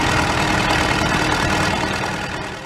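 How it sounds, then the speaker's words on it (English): A Case 830 tractor diesel engine rumbles steadily at close range, a dense continuous drone that fades slightly toward the end. "when it fires up with that familiar diesel rumble"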